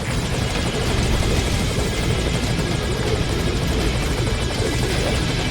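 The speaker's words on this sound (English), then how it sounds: "Get on the chopper." Helicopter from the video game Metal Gear Solid V, a steady loud rotor drone with dense chopping texture that holds close and constant throughout, with no talk over it.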